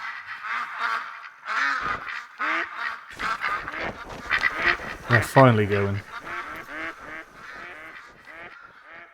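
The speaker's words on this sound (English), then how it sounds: "They're ducks, but they were making a hell of a lot of noise," Ducks quack loudly and repeatedly in the video game theHunter: Call of the Wild, with honking, goose-like calls overlapping, and a person briefly speaks over them.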